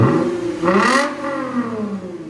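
A 2008 Lexus IS 250 with a 2.5L V6 and a Valvetronic Designs universal muffler, valves open on a cold 20-degree day, revs up sharply and then settles into a droning exhaust note, close and loud with no talking.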